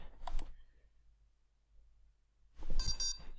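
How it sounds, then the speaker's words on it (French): Two short electronic bleeps from a LEGO Mindstorms EV3 robot brick, separated by a couple of seconds of near silence, heard close up. "j'ai eu les deux bips qui m'ont signalé que l'application a été téléchargée"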